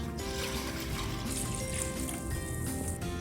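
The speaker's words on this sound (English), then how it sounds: "We're gonna put the water in the pot." Water poured into a cooking pot for boiling farro, a steady close splashing fill running continuously for the whole few seconds with no talk over it.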